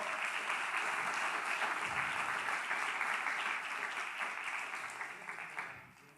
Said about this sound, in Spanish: Sí, déle ese aplauso al Señor.